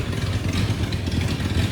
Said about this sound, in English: At least it idles.